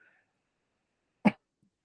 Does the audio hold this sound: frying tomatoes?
no